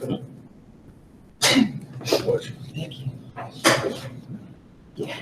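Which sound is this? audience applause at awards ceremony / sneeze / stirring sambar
sneeze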